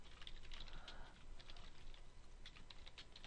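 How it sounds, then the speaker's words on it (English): Quiet, rapid keystrokes tap on a computer keyboard as an email address is typed, a light, even patter in two short flurries over a low steady background hum. "what I always do is type the email address"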